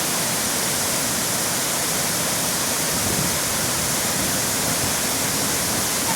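Burney Falls in northern California, water pouring out of porous rock and cascading down, a loud, unbroken roaring rush filling the whole stretch with no voices.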